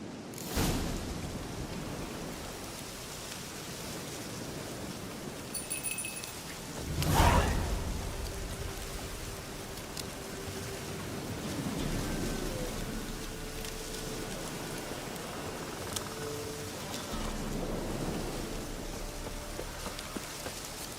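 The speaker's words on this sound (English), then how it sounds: "Looks like rain." In the video game The Witcher 3: Wild Hunt, steady rain falls across the whole stretch, with a sharp crack near the start and a louder rumbling burst about a third of the way through.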